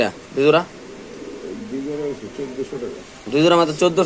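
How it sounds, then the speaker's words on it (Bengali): Pigeons for sale at a market coo in soft, throaty bursts at the start and end, with people talking nearby in between. "অনেক সুন্দর কবুতরগুলো দর্শক দেখেন"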